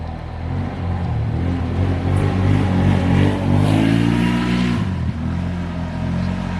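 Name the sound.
loud cars passing on a road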